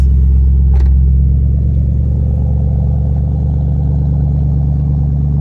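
A Shelby Super Snake engine with Borla exhaust rumbles steadily and deeply up close, a loud constant low drone with a brief higher blip near the start.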